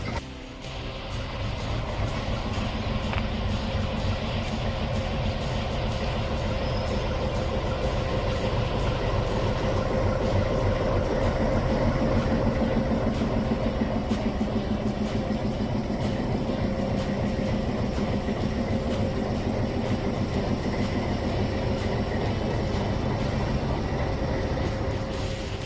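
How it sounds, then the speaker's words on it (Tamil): A safari train on the Gir forest railway runs with its engine going, a steady loud rumble and drone that holds evenly for about twenty-five seconds, close by, with no voices. "இன்ஜின் ஸ்டார்ட் பண்ணிட்டாங்க"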